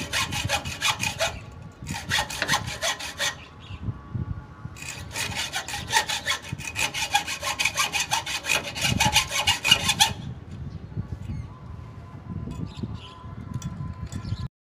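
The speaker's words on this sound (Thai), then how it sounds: "ใช้เลื่อยตัดนะครับ" A hand saw cuts through a water pipe running from a pump up to a tank, in three bursts of steady back-and-forth rasping strokes, close and loud, with a quieter pause between the first two bursts and faint ambient sounds after.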